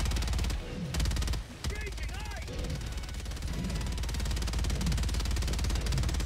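Rapid gunfire in Helldivers 2, a sustained, dense rattle of shots running through the whole stretch with brief dropouts, alongside chirping game sound effects.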